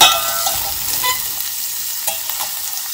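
Onions sizzle in a hot pan as they are fried until translucent, with stirring scrapes over a constant hiss that eases slightly after an initial burst.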